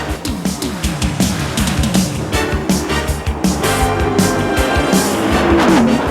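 Stock cars race at speed around Indianapolis Motor Speedway, a loud continuous engine roar with rising and falling pitch as cars pass close by, tires squealing at times.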